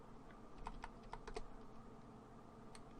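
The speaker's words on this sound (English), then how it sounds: "you guys can hear my mouse and keyboard." Soft, quiet keyboard typing with a few sharp clicks over a low background hum, nearby and faint.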